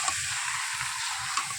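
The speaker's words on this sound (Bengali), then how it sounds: "এবার মাংসটা ঢেলে দেবো।" Chicken is poured into spices frying in a pan over a wood-fired clay stove, giving a loud, steady, close-up sizzle with soft rhythmic stirring thumps underneath.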